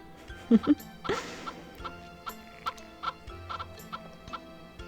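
Chickens clucking in the Harvest Moon 64 farming video game, a series of short, sparse game-sound clucks and ticks spread through the clip over quiet background music, moderately faint.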